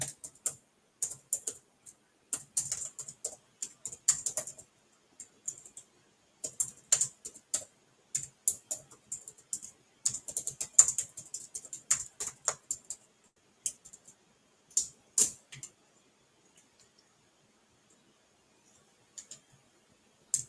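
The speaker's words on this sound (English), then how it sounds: "Trying to type my welcome thing." Typing on a computer keyboard, close and fairly quiet, irregular bursts of key clicks with short pauses between them, ending in silence.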